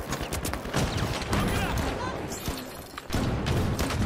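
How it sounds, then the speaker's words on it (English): Rapid bursts of gunfire from an online shooter video game rattle through the whole stretch, dense and loud, with players talking over the shots. "we're getting shot at!"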